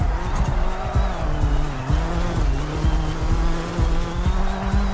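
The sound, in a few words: all-wheel drive car being driven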